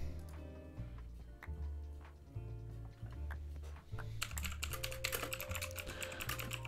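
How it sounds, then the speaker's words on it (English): Keyboard typing during a Minecraft session, a steady run of quick clicking keystrokes close to the mic over a constant low hum, growing denser and busier toward the end. "you're gonna see me typing"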